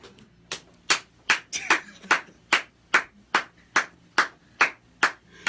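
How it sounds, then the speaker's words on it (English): Hand clapping during a live radio interview in Memphis: about thirteen sharp, evenly spaced claps at a steady, fairly quick rhythm, close and clear with no talk over them. "You don't understand why I'm clapping."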